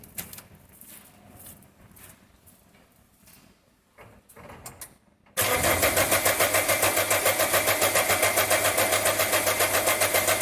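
A car engine turning over on its battery during a repair, with faint clanks and movement for about five seconds before a loud, steady rapid cranking churn starts abruptly and continues close up without stopping.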